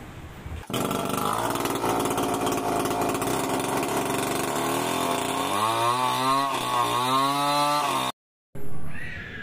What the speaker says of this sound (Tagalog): Makapal yung kahoy kaya kailangan ko pang bawasan gamit ang ng chainsaw